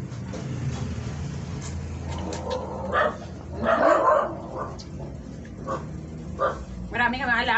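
Dogs bark and yip in the background, with scattered woofs and a whimpering sound near the end, under ongoing talk at a family meal.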